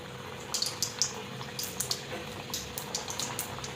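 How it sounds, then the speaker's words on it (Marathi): Kapnya, sliced pieces of dough coated with poppy seeds, frying one by one in moderately hot oil in a kadhai, a soft continuous bubbling hiss with small crackling pops, close and fairly quiet. "आता ह्या कापण्या ज्या आहेत ना कापलेल्या त्या आता मी तेलामध्ये सोडणार आहे"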